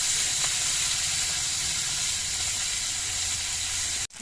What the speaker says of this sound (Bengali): এবার মাছগুলো আমি ভেজে নিচ্ছি